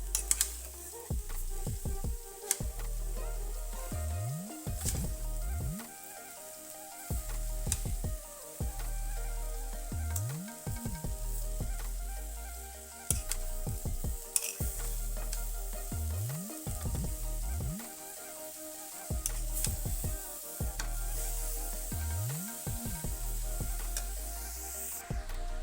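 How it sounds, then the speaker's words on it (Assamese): Grated coconut and sugar fry and are stirred in a wok, giving a steady close sizzle with repeated scraping strokes of the spatula at a regular rhythm. "ইয়াতে এতিয়া মই দি দিম চেনিখিনি, একেলগে ভাজি থাকে। এতিয়া ভালকৈ লৰাই দিম।"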